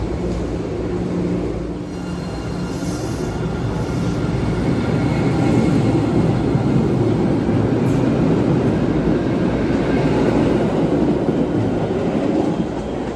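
An MBTA Blue Line subway train heading toward Wonderland rumbles steadily along the rails, with a constant loud roar, rattling wheels and faint squeals throughout, and no voices.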